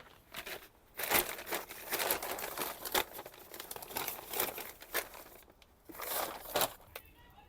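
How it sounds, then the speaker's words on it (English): Plastic bag being folded flat for a seed snail, close and crisp crinkling in irregular bursts with short quiet gaps between handling. "So I fold up the bag"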